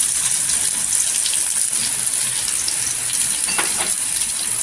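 Chopped onion sautéing in hot oil with crushed garlic on a tawa, a loud, steady hiss of sizzling throughout with a faint stir or two, no talking.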